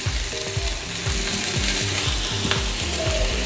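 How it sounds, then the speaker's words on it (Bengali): Onion and green chili sizzle in a pan, a steady bright frying hiss running throughout with repeated low scraping strokes of a spatula stirring in a regular rhythm, close and fairly loud with no talk. "পেঁয়াজটা একটু হালকা ভেজে নিচ্ছি"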